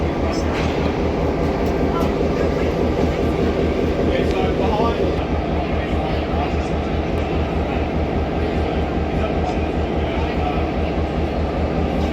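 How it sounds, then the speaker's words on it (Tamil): A vintage steam-style train rumbles past on a Sydney line, a loud continuous low clatter with rhythmic wheel beats and a metallic shift midway, close by and unbroken. "இது வந்து ஒரு ஸ்டீம் விண்டேஜ் ட்ரெயின் போல இருக்கேண்ணே."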